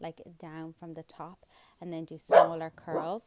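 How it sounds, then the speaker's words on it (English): A dog barking in short yelping bursts near the end, mixed in with a person talking over it. "That's the dog going at it."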